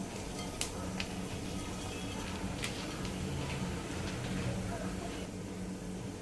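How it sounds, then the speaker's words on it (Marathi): Cumin seeds crackling in hot ghee in a pan, a faint, steady sizzle with scattered small pops and ticks, quiet and close. "जिरं चांगलं तडतडलंय"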